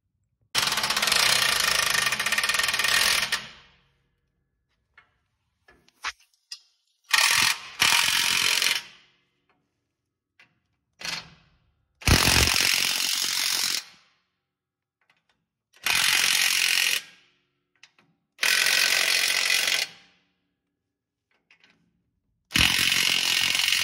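Ratcheting tool tightening the spring install bolts on a Toyota Tundra during a Sumo Springs install, heard as several loud bursts of rapid clicking ratchet strokes separated by quiet pauses, with no talking.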